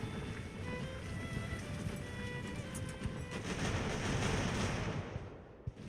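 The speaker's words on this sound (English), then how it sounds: "The cannons are really giving us a hard time." Cannon fire in the naval sailing-era game Ultimate Admiral Age of Sail, a steady rumbling barrage of distant booms blended into a continuous battle roar, building slightly before fading out.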